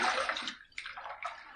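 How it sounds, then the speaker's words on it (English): A razor rinsed in warm water during a shave: a burst of splashing, then short swishing sloshes close by, with no talk. "Let's rinse."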